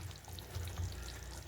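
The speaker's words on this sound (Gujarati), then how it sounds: "હવે આપણે આ દહીંનું મિશ્રણ નાખી દઈશું" Yogurt mixture hits cooking vegetables in a hot pan and gets stirred in. A brief, soft, close sizzle with light bubbling follows, and no one speaks.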